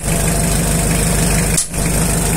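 A used Isuzu 4DR7 diesel engine idles close by, a loud, steady low chug with a regular knocking pulse and one brief dip in level.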